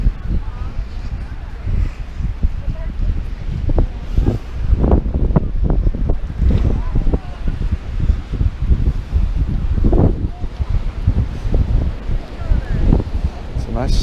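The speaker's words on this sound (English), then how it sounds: "A bit windy today." Wind buffeting a microphone at the seaside in Torbay, rumbling gusts in irregular bursts across the whole stretch, with people's voices faintly mixed in.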